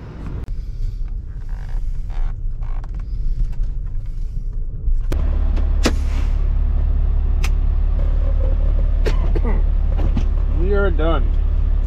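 A Ford pickup truck plowing snow late at night in Massachusetts, its engine a steady close rumble that grows heavier partway through, with some voices and scraping sounds over it.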